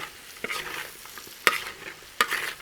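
Chicken being stirred with melted butter in a sizzling pan, the frying hiss broken by a few sharp scrapes and clacks of the spoon against the metal, close and clear.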